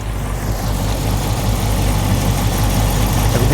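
2016 Dodge Challenger engine idling, a steady low rumble with constant vibration, close and loud, without any speech.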